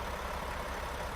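A Mack Anthem truck engine in American Truck Simulator, a steady low diesel drone with a rough, even throb, sustained and moderately quiet with no voices over it.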